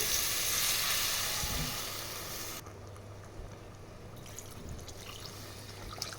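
Water poured into mutton cooking in a pan, a loud frying sizzle that drops sharply as the water goes in, followed by quieter bubbling and light clinks.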